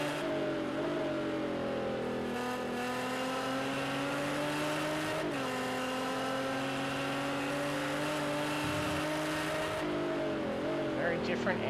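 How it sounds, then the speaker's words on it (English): A GT3 race car engine at Mazda Raceway Laguna Seca, approaching the Corkscrew, gives a loud, sustained mechanical drone with steady harmonics and shifting pitch that dips briefly midway, with commentary heard over it. "Very different engine sound coming down to the skyline compared to the other cars."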